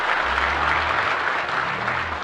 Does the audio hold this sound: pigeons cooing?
no